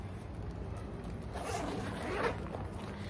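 A zipper pulled open along a compartment of a bag bought at a street market, a steady rasping run that swells midway, close by with no talk.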